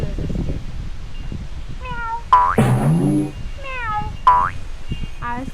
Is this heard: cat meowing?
yes